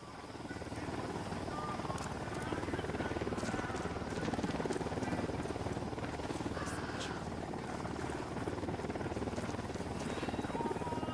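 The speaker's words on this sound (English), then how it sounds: "Yeah, it's choppers." Helicopters arrive in Ghost Recon Wildlands as reinforcements, a continuous rotor thump and engine drone holding loud and steady throughout, with faint voices in the mix.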